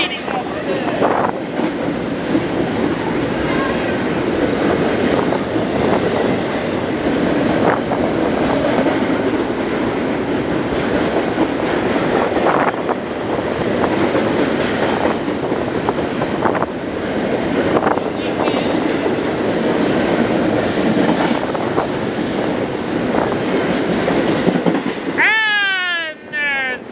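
A long freight train rumbles past up close, its steady roar and rattling wagons filling the whole stretch with wind buffeting the microphone, and a brief squeal near the end as the eastbound train passes.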